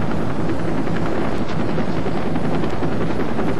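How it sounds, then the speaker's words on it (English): A firefighting helicopter with the California Department of Forestry flies close by, its loud, dense rotor and engine roar steady throughout, with no voices. "There were 2 helicopters that I watched fill up, and then I went back to the fire."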